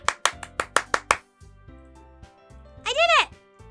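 Six quick, sharp claps in a burst in the video game Doki Doki Literature Club, followed by quiet game music and a rising electronic chime effect.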